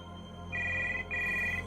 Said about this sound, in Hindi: प्रीति ने जाकर फोन उठाया